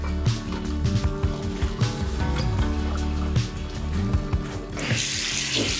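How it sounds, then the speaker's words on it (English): Cold tap water runs steadily over drained, freshly boiled cabbage and vegetables in a kitchen sink, a continuous splashing rush with bubbling, gurgling tones, heard close with no talking. "I'm just refreshing them under some cold water"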